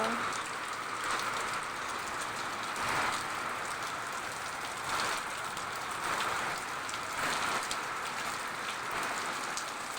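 Heavy rain pours down in a steady, loud hiss of drops striking surfaces, swelling slightly every couple of seconds and running unbroken throughout.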